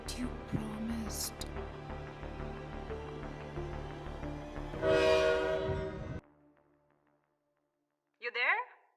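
A train rumbles past with rhythmic wheel clatter while a loud horn blasts near the end of its pass, then everything cuts to near silence before a brief voice.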